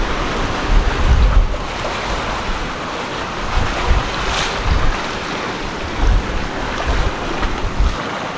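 Ocean waves around a sailing boat in the Caribbean's Windward Islands near Les Saintes, with about 3-foot waves. A constant rush of wind and surf, heavy wind buffeting on the microphone, and periodic louder swells and thumps against the hull.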